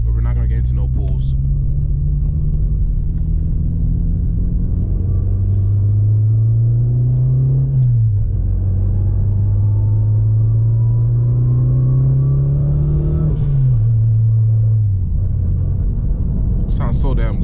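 A turbocharged 9th-gen Honda Civic Si with a Cortex electronic boost controller drones loudly and up close, its engine note twice climbing as boost builds, then dropping back to a steady rumble.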